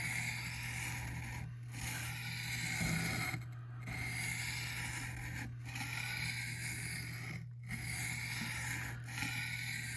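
A knife edge is drawn repeatedly across a Work Sharp whetstone, giving steady raspy scraping strokes separated by brief pauses, over a constant low hum.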